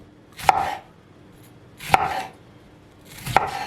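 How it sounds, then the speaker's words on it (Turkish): Tomatoes being sliced with a knife on a board, three separate crisp chopping strokes spaced about a second and a half apart, close and clear with no voices. "Domatesimizi de dilimliyoruz arkadaşlar"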